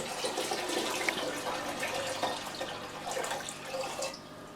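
Tap water running and splashing into a pot being filled for slime making, a steady close gush that eases off at the end.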